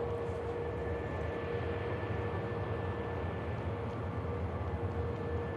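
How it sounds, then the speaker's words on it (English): A Ryanair airliner on its takeoff roll at Manchester Airport, bound for Brussels, gives a steady, distant jet roar with a constant tonal whine, unchanging throughout with no voices. "Ryanair is on the roll for Brussels"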